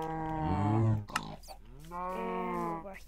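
A cow moos twice in Minecraft, two drawn-out, clear bellows separated by a short click, close and loud with no talk over them.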